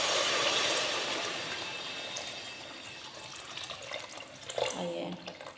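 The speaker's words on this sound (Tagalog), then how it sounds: "So, lagyan na natin ng tubig." Water pours steadily into a cooking pot while making molokhia with chicken, a close, continuous splashing rush that fades slightly before small clinks and splashes near the end.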